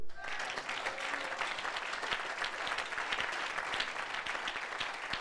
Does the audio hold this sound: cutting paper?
no